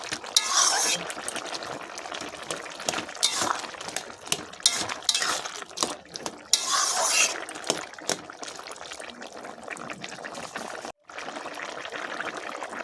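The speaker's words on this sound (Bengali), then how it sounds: "একটু ভালো করে নাড়াচাড়া করে দেবো।" Prawn and melon curry with potatoes being stirred in a pan, with intermittent clinks and scrapes of a utensil against metal coming in irregular bursts over a low, steady background.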